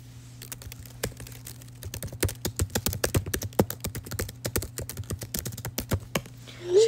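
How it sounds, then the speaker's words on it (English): A computer keyboard is hit with rapid, forceful typing, dense clusters of sharp clacks building up after a slower start, close and clear over a faint electrical hum. "aggressive typing"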